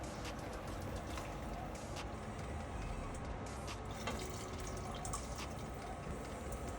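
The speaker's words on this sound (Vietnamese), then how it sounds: "Tráng sạch sẽ chảo và khay ướp thịt rồi đổ vào nồi." Rinse water from a frying pan and a meat marinade tray poured into a pot of broth, a steady close splashing pour that runs unbroken throughout.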